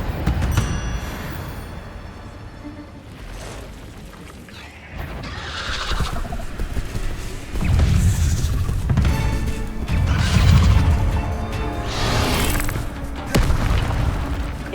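Fire spell cast in the video game Hogwarts Legacy, a run of heavy booming bursts and crashing impacts that swell and fade across the stretch, loud and layered with whooshing flame noise and some ringing tonal effects.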